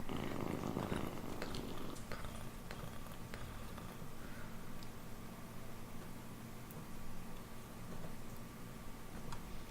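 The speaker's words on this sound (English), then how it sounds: "When we talk to a Khajiit, we purr a little bit." A Khajiit character in the game Morrowind purring, a soft continuous rumbling purr that runs steadily for nearly ten seconds at low volume.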